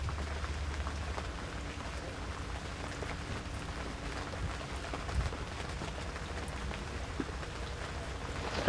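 Steady rain falls on a rainy day around a boat, a dense even patter of drops on surfaces, close and continuous with occasional heavier taps.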